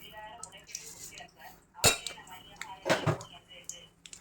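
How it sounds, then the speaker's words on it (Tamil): Mustard seeds hit hot oil for a kitchen chutney tempering, giving a couple of sharp, close crackling pops over a quiet background. "இப்போ கொஞ்சம் கடுகு போட்டுக்கலாம்"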